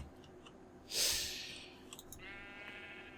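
A single bright, nasal Minecraft sheep bleat rises briefly over a quiet background, followed by faint clicks and a thin tonal hum.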